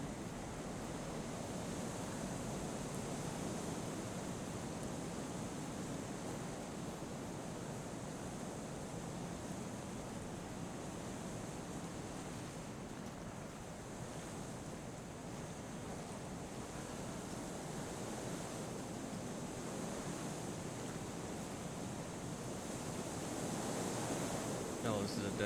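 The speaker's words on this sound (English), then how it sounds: "There's a waterfall up here." A waterfall in the snowy mountain game Kholat: a soft, continuous broadband rush of falling water mixed with wind, faint and unchanging over the whole stretch.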